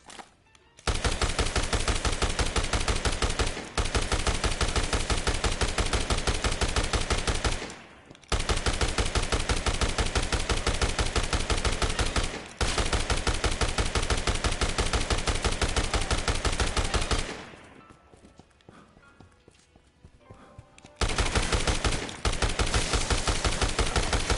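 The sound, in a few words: machine gun fire in video game Dead Rising Deluxe Remaster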